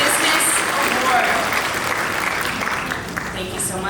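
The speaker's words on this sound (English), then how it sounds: "one more round of applause for Strong Nations, the winner of this year's Indigenous Business Award" Sustained applause from an evening awards-gala audience honouring the winner of an Indigenous Business Award at the Nanaimo Business Awards, a steady dense clapping that holds evenly throughout with no break.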